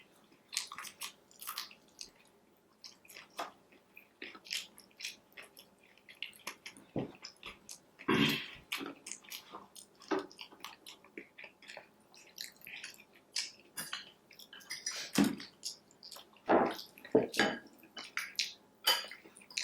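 Mukbang eating of cheesy spicy noodles, fried chicken, Cajun fries and biscuits, with close, intermittent bites, crunches and wet chewing sounds in irregular bursts, some louder crisp bites among softer smacking.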